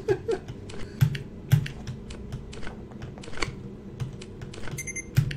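Computer keyboard keys clatter in scattered bursts of taps and heavier key hits during a horror video game session, close and dry with a faint game tone in the background.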